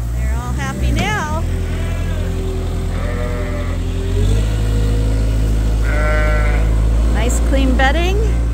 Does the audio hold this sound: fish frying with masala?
no